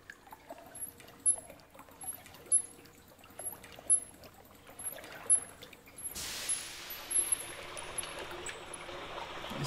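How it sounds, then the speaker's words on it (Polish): Water flows through a sewer tunnel in the video game Face Noir, a steady trickling stream that swells into a louder, brighter gush partway through, with faint periodic clanks and drips in the background. "I słychać, jak płynie woda."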